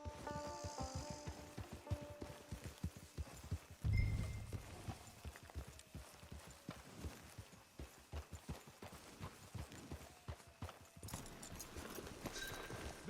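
Horse hooves walking in the video game Red Dead Redemption Online: a steady, rhythmic clip-clop that is fairly faint and runs throughout, with a brief low thud partway through.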